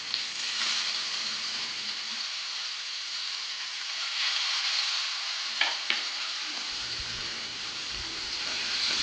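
Fish pieces frying in hot oil in a pan give a steady bright sizzle and crackle with a few sharp pops, continuous and close, with no talking.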